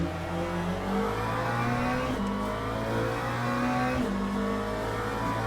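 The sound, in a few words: Mustang GT3 race car engine, racing video game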